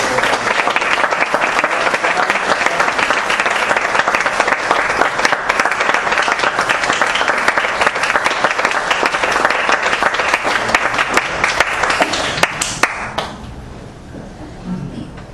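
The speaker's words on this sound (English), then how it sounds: "Let's give big our applause." A congregation at an English Sunday church service breaks into loud, sustained applause, dense clapping from many hands that runs for about thirteen seconds before fading quickly into quiet room noise.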